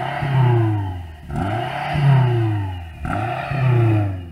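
A BMW M5 engine revved three times in a row, each rev climbing and then falling away, loud and close with a mechanical clatter.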